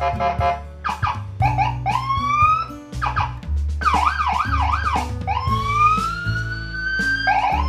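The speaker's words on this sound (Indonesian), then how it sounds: "Klakson sirenanya." Denso siren horn fitted to a custom Yamaha SMX scooter wails in loud, rising and warbling sweeps, then settles into a steady high tone over a low rumble, with no one talking.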